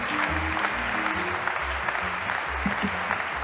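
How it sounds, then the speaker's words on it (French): An audience at an awards ceremony claps steadily and densely throughout, a sustained wash of many hands in a large room, with no pause or build. "je demande un tonnerre d'applaudissements pour Jean-Baptiste Gernet"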